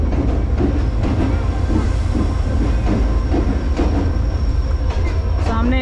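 The Pak Business Express train pulls out of a Karachi station with loud, rhythmic clickety-clack of wheels over rail joints, a heavy rumble and brief wheel squeals, close by and continuous.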